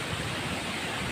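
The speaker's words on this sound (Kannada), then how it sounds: "ಯಾಕಂದರೆ ನೀರು ಜೋರಾಗಿ ಬೀಳ್ತಾ ಇರುತ್ತೆ" Vibhuti Falls waterfall with water plunging forcefully, a loud, steady, full hiss and roar close by, unbroken and with no voices.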